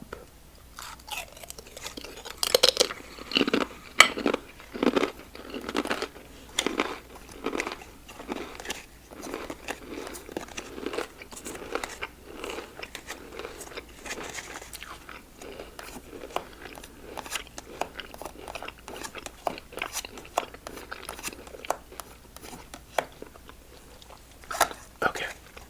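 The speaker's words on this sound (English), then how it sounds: "I'll have some crackers" Zesty Cheez-It crackers eaten close to the mic, a long run of crisp bites and crunchy chewing in uneven bursts, with soft whispering between mouthfuls.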